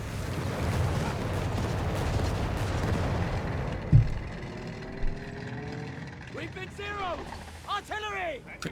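Artillery strike in the strategy game Company of Heroes 3, a low rumbling barrage with a couple of distinct thuds, fading as a commentator talks over the battle.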